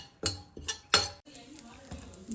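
Cumin seeds being stirred in a pan with a spoon, giving a few close metallic clinks and scrapes with a faint sizzle underneath.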